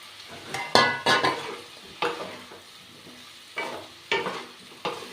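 Ivy gourd and potatoes are stir-fried in a pan, with a spatula scraping and clinking in several sharp bursts over a soft, steady sizzle.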